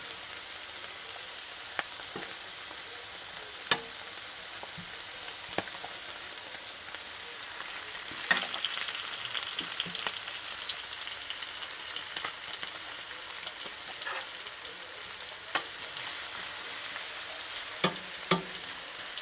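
A country breakfast fries in a warped pan, giving a steady close sizzle broken by sharp scrapes and clicks from stirring, with no talking.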